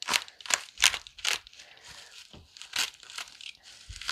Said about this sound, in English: I'm going to unwrap this and see what it looks like.